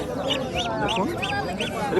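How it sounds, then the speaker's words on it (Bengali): Chinese ducks quack in a rapid, regular series of nasal calls, close by, over market chatter at a rural village market near the Bangladesh–India border. "চীনা হাঁস এখানে আছে"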